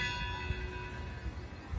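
Church bell tolling in the town of Guarne, Colombia, in the Andes, a sustained ringing hum with clear lingering overtones heard at moderate distance over low outdoor rumble.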